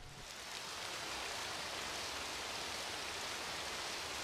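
Steady, dense rain hiss from the video game Azure Dreams, falling on a desert city, loud and continuous throughout with no talk.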